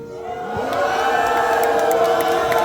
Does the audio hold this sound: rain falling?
no